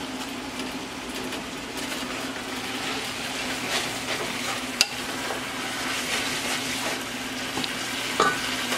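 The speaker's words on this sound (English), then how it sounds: "let me just stir that up" Chicken chow mein noodles fry in a pan and are stirred, making a steady close sizzle with soft scraping and a couple of sharp clinks of the utensil against the pan.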